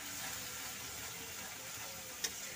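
Spice masala and dried fish (shutki) frying together in a pan, a faint, steady sizzle with one small click of a utensil near the end.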